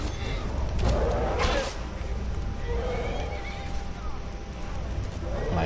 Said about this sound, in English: My horse is in there somewhere.